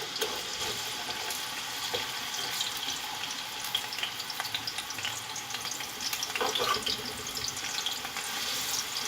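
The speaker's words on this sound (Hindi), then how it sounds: "देगची में मैंने तकरीबन 1 कप ऑयल डाला है। इसमें प्याज डाल के हम ब्राउन कर लेंगे।" Finely chopped medium onions sizzle steadily in about a cup of oil in a deep pot for Afghani pulao, with a continuous hissing fry and occasional stirring scrapes.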